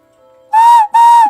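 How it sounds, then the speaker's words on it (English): A small clay whistle shaped like an elephant gives two steady, piercing toots in a row, loud and close, each lasting about a third of a second, with near silence around them. "this little elephant is a whistle"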